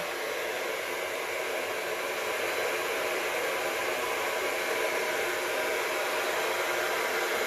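A hair dryer with a funnel attached blows onto paint, giving a steady, loud, unbroken rushing whoosh that holds the same level throughout with no talking.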